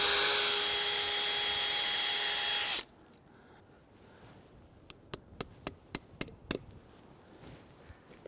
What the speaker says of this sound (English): So I'm going to go right in the middle here, and you just drill a hole.